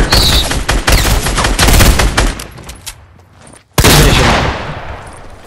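Shotgun blasts in Fortnite, a dense run of loud, sharp reports and impacts that thin out, then a brief quiet gap followed by one more close, powerful blast with a long decaying tail.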